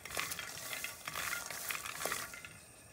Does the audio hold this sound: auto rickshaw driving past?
no